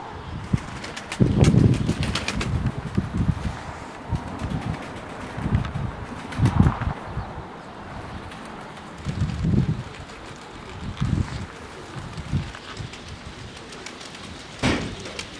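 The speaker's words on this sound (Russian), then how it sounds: "Да голуби слетают с крыши." Pigeons coo in bursts outdoors and flutter off a roof, with wind rumbling against the microphone between the calls.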